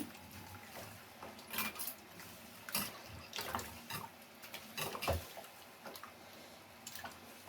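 Water is poured into a homemade curry of brinjal, pumpkin and appalam made with home-ground chilli powder. The soft, irregular splashing and trickling is quiet and close, with no talking.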